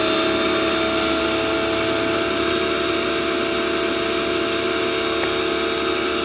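A pressure washer rated at 2150 PSI runs steadily and loudly throughout, a constant motor-and-pump drone with a high whine and no pauses.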